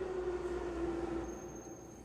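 Subway train rumbling past in Assassin's Creed 3, a steady low roar with a sustained tonal whine that fades partway through, heard alone without talk.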